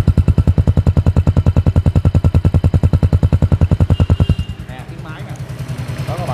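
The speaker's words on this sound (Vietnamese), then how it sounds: "Nghe này là nghe tiếng bô đó các bạn." A Yamaha Spark 135i motorcycle idles with a loud, steady, rapid exhaust putter close to the pipe, then the pulsing drops off sharply into a quieter muffled run near the end.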